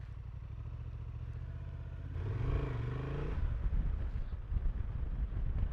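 A Honda Transalp motorcycle heading off-road gives a steady, close engine drone with wind buffeting the microphone and clattering, and it swells louder partway through.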